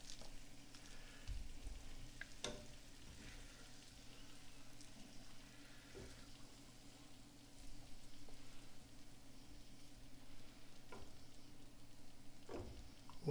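Shrimp and zucchini sizzle in a pan, a faint, steady frying hiss with occasional soft clicks and pops of utensils, no voices.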